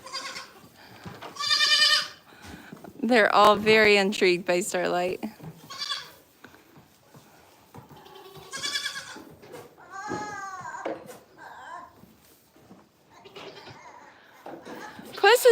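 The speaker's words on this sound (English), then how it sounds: "Look at all these goats." Goats crowd a barn and bleat loudly and repeatedly in uneven bursts, some calls close and harsh, while someone talks between them.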